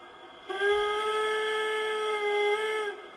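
A single long, steady steam train whistle in the video game Train World 2020 blows for about two and a half seconds, clear and tonal, then cuts off.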